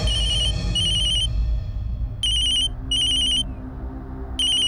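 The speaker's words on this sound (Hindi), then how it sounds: "फिर अगली ही शाम मुझे बाबा जी का फोन आया" A telephone rings in a dramatized scene, sounding in short repeated electronic bursts with brief gaps between them, loud and close over a low background hum, with no speech.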